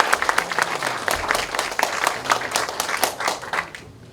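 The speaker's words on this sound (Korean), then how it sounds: "뜨거운 박수 부탁드리겠습니다" Warm audience applause at a lecture event, a burst of hand clapping with uneven, pulsing claps that carries on for a few seconds before breaking off.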